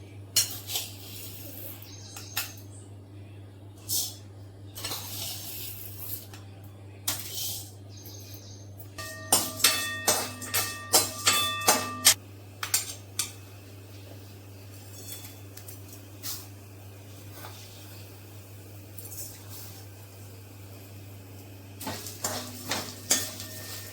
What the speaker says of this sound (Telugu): రెండు స్పూన్లు శనగపప్పు వేయించాలి